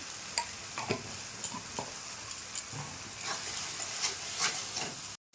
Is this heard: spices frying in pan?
yes